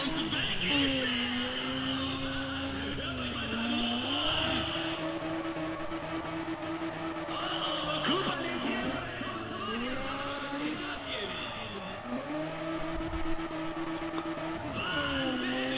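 Car engine revving and whining with intermittent tire squeal while drifting in the racing game Need for Speed ProStreet, a steady rising and falling engine tone with someone talking over it.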